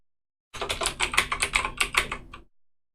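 Rapid keystrokes on a computer keyboard, a close, even burst of about a dozen clicks lasting two seconds before stopping.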